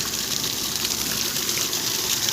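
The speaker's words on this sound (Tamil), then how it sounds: "தண்ணி நல்ல ஃபோர்ஸு ஹை ப்ரெஷரில் வந்துக்கிட்டு இருக்குது" A serviced 1100W BLDC motor pump pushes water out at high pressure, a loud, continuous gushing rush that fills the whole clip with no breaks.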